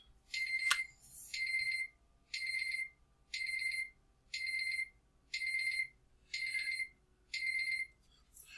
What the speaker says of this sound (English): That was my medicine alarm.